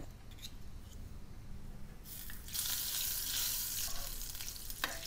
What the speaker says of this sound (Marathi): त्यासाठी तडका पॅनमध्ये 1 छोटा चमचा तेल, 1 मोठा चमचा बटर